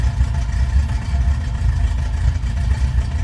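A 1971 Chevrolet Nova engine running at a steady idle, a loud, close, smooth low rumble with no talk over it.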